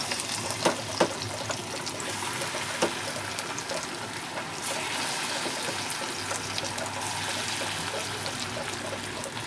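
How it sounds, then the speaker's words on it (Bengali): Soyabean pakora batter dropped in small portions into hot oil, giving a steady, close crackling sizzle with a few sharp pops early on, continuing without talk. "এবারে আমি এটাকে তেলের মধ্যে দিতে থাকবো ছোট ছোট করে।"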